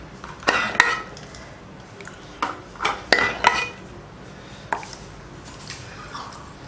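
Tumblers clink and knock against a kitchen surface as they are set out for pouring kulfi mix, with a few sharp taps that come in small bursts and fairly quietly.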